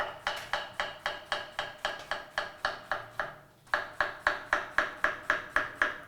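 Knife chopping snake gourd on a cutting board, a steady run of crisp, evenly spaced taps close by, with a short pause midway before the rhythmic cutting resumes.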